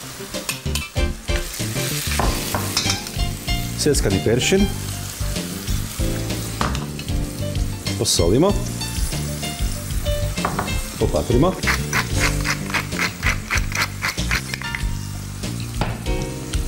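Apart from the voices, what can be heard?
chopped tomato and parsley simmering in a pan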